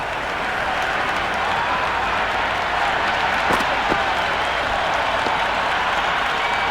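A cricket crowd at a Scotland versus England T20 World Cup match applauds a boundary four with steady, sustained clapping and cheering. The noise holds at an even level, and a few sharper claps stand out.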